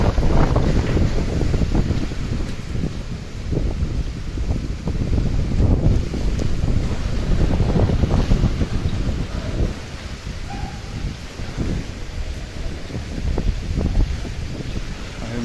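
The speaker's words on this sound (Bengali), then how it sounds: "এই বাতাসে অনেক ঢেউ সৃষ্টি হয়, বুড়িগঙ্গাতে অনেক ঢেউ হচ্ছে বাতাসের কারণে।" Strong cyclone winds from Cyclone Remal roar steadily across the Buriganga river near Sadarghat launch terminal, buffeting the microphone, with churning waves and water slapping beneath the constant gusting.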